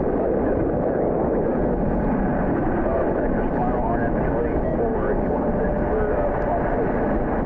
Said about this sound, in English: Meanwhile, over on the runway, the Delta A321, this one has winglets on it. They are heading to Atlanta.